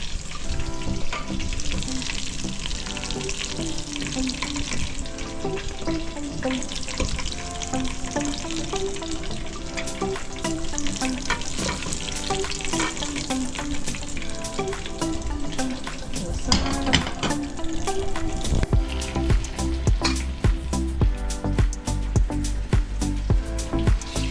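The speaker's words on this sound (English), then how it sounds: "Just sear them on each side." Lamb pieces searing in a hot pan, a steady broadband sizzle running throughout with faint clinks, while background music plays underneath.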